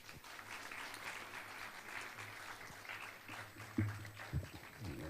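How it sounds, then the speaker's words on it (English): An audience applauds after a talk at a youth TEDx event, steady, moderately distant clapping throughout with a couple of louder bumps near the end. "Let's have another round of applause for Ahana's deeply personal and relatable"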